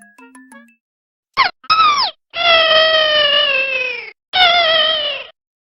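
Bulbmin creatures from the video game Pikmin 2 let out high, cute squeaky cries and drawn-out mewing calls, loud and close, with a few short electronic blips before them.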